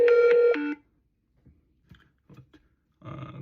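Telephone signal tones from an incoming call placed through a camera, two short loud beeps at the start followed by near silence with faint clicks and a burst of noise at the end.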